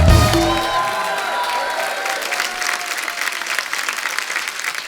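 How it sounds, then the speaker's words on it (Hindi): A studio audience at a comedy show claps loudly, with a few cheers rising under fading stage music, and the applause carries on steady and full. "बहुत बहुत स्वागत और जोरदार तालियां"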